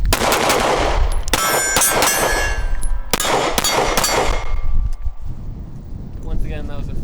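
Smith & Wesson M&P 2.0 pistol fired at an outdoor range: two loud, sharp close shots roughly two seconds apart, ringing metallic reports trailing off, wind rumble on the mic and a voice near the end.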